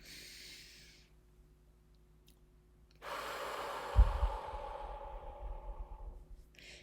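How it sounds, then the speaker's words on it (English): A single slow inhale through the nose during a guided breathing exercise, a soft airy draw swelling after a quiet pause and fading out, close and alone without talk. "Breathing in on the left."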